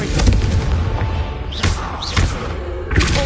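Confringo blasting spell in Hogwarts Legacy: a series of heavy booming thuds, about four blasts spaced roughly half a second to a second apart, loud and close with bright whooshing bursts on top.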